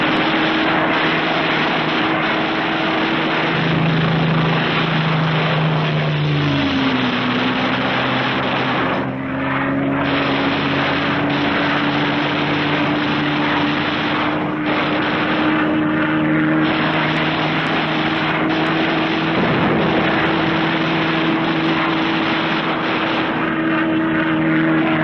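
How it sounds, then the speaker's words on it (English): Propeller aircraft engines drone steadily over an airfield in 1945 footage, a loud, continuous roar whose pitch glides lower early on and then holds, with no voices. "Airfield."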